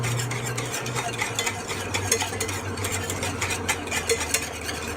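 A whisk scrapes continuously around a pot of flour frosting mixture for mint chocolate chip ermine, a busy, rhythmic swishing and clinking over a low background hum, with no talking.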